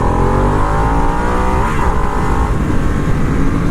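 A Harley-Davidson Nightster motorcycle pulls hard under full throttle, its engine note climbing steeply through the revs. The sound is loud and close, with wind rush, and a brief dip near the middle before it rises again.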